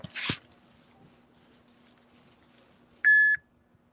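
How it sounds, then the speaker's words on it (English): A single short electronic beep from a zoo animal-monitoring device near the end, following a brief rustling scrape in an otherwise quiet space. "So you'll hear my beep."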